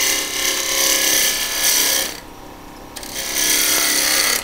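A power tool grinds wood off a gum burl bead, a loud, harsh rasping whine running in two long passes with a brief pause between, close and alone.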